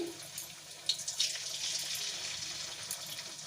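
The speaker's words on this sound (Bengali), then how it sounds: "আজকে এই দেখুন এই যে এরকম এরকম করে মোচার চাক ভাজা করছি" Banana flower fritters made from rice-flour batter sizzling in a pan over low heat, a steady bright hissing crackle with a few louder spits, close up and continuous.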